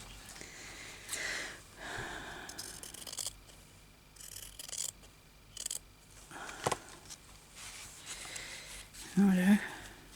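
Scissors snip a piece off a sewing-style craft journal, a few short close cuts spaced between quiet rustling and faint handling sounds.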